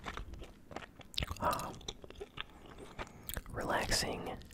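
Close, wet chewing of bubble gum with smacking and crunchy bites in irregular bursts, interspersed with soft whispering and light game controller clicks.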